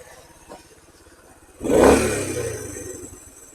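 A Honda CT110 motorcycle engine idles with a soft, steady putter, then swells in a brief rev partway through before settling back to a fuller idle as the idle screw is adjusted.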